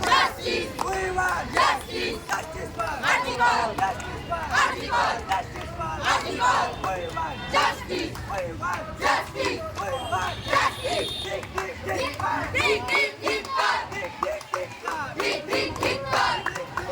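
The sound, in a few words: crowd chanting at a protest march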